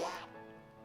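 Psyduck's cry in a Pokémon Scarlet and Violet video game, a short loud nasal quacking call that fades quickly into a quiet electronic tail.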